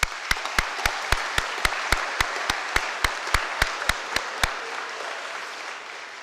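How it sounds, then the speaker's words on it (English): Applause from the audience at a spring athletic assembly at Stanstead College: a steady wash of clapping with one sharp, evenly timed clap standing out close by, fading out after about four and a half seconds. "I'd ask that you show your appreciation to all of them with a round of applause."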